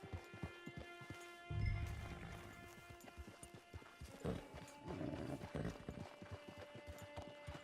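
Horse hooves clip-clopping in the video game Red Dead Redemption Online, a steady run of hoof strikes at moderate distance with a brief snort and whinny mixed in, over faint ambient game sound and no talk.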